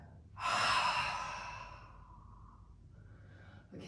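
A long, breathy exhale released during a guided yoga flow, swelling quickly then fading slowly over a couple of seconds, close and alone with a faint room hush afterward.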